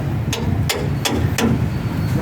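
A hammer pounds during a leaf spring replacement with a jack, four sharp, evenly spaced strikes ringing out close by over a steady low background rumble.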